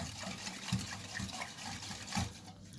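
Sugar being stirred into water in a bowl to make sherbet syrup for a mango basbousa, giving a run of soft liquid swishes and sloshes with a few louder pulses, close and alone.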